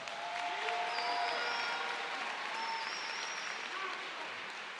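Graduation ceremony audience applauding teachers and administrators, a steady, dense wash of clapping from a large crowd that holds evenly for the whole stretch with no talk over it.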